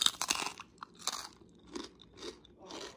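Crunchy bites and chewing of air-fried Chinese crispy pork belly, several sharp crackling crunches up close followed by quieter rhythmic chewing, with no talk.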